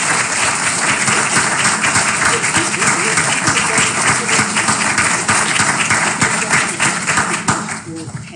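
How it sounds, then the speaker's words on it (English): A crowd at a Kristallnacht commemoration event applauds the guests with sustained, loud clapping from many people. It fades slightly at the end. "Let's give them a round of applause."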